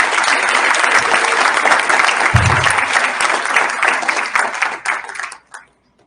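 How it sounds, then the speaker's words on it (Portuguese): Closing applause from a seated audience at the end of a talk on nonviolent communication: brisk, full clapping that thins out and stops abruptly, leaving near silence. "eu peço uma salva de palmas para todos nós"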